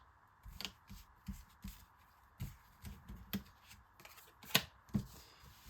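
Tarot cards handled and laid out for a nine-card spread, with soft separate snaps and flicks of card stock at irregular intervals, close and quiet against a faint background hum.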